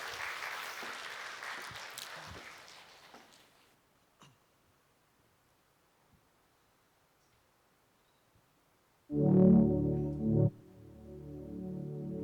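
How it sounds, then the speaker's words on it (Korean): A church congregation at a Sunday service claps, with a burst of applause that tapers off over a few seconds into near silence, followed later by a loud sustained chord from an instrument. "박수로 맞이하죠."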